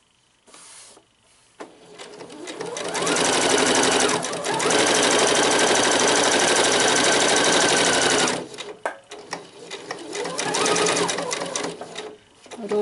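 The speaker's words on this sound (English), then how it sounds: "so needle down into the machine, change direction" A sewing machine stitches a shirred elastic summer dress, running steadily in two long bursts with a short pause and a few soft handling clicks in between. The whirring is loud and close, with no talking.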